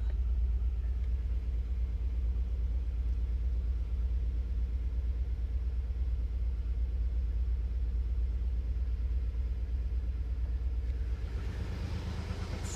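A 1993 Nissan 300ZX twin turbo engine idles steadily and close by, a continuous low rumble with a faint mechanical hum and no talking, holding even loudness throughout with a slight brightening near the end.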